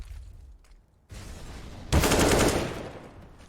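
AK rifle fire during a Counter-Strike match on Dust 2: muffled background noise, then a sharp onset of loud, close rapid gunfire rattling for over a second before fading.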